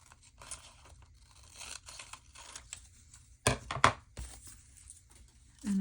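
Scissors trim paper for a collage: faint snips and rustling, then a few sharp, close cuts and crinkles in a quiet room, with no talking.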